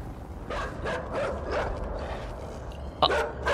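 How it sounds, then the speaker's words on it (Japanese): Dogs barking and yipping in the side-scrolling puzzle game INSIDE, set in a dark underground facility, with several sharp barks at a moderate distance and a louder, closer burst near the end. "待って、犬の鳴き声するけど。"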